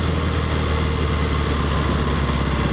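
A 1964 Royal Enfield Interceptor Mk1 motorcycle engine runs with a steady low rumble and a continuous drone, heard close and alone.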